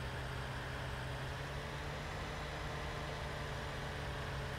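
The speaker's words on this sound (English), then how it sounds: "Should make backing up interesting here with this tractor." Tractor engine from Farming Simulator 19 running steadily while reversing, a continuous low, droning hum at constant loudness with no talk over it.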